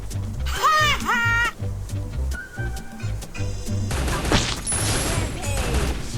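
Gunfire from the Trogon gun skin in a Thai first-person shooter, heard as dense bursts of shots across the clip. Chirpy game effects sound early on, and the shooting thickens and grows busier in the second half.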